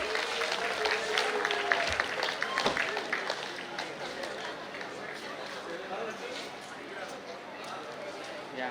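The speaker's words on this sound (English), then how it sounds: "Guys, please give them a big round of applause." Applause for two prize-winning students from St. Martin's at an Akshara school event, a dense crowd of clapping spread across the hall, steady and fairly loud, with voices chattering underneath throughout.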